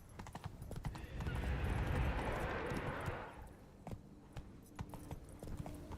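Roach, Geralt's horse in the video game The Witcher 3, gallops in a quick run of hoofbeats. A low rumbling swell sits under the hooves for a few seconds, then thins to scattered steps and clatter.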